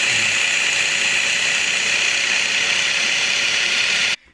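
A Rug Doctor carpet cleaner with a motorised brush runs with a loud, steady, high-pitched motor whine, cutting off abruptly at the end.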